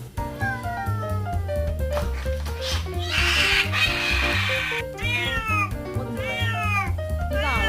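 A house cat meows and caterwauls in drawn-out, wavering cries that rise and fall, loud and close, with a noisy burst in the middle and steady background tones running underneath.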